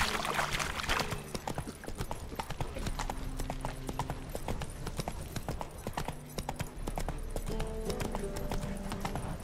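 A horse gallops with rapid, rhythmic hoof clip-clops in the video game The Witcher 3, loud and continuous, with a brief whinny and background game sounds.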